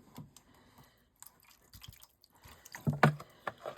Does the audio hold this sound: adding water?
yes